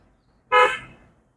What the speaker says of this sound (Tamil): Horn one more.